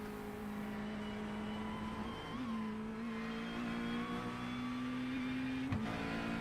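McLaren race car engine held at full throttle during a four-hour sports car championship round at Detroit Belle Isle in a racing video game, a loud, steady high whine that holds one pitch with a brief dip partway through.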